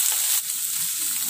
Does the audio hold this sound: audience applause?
no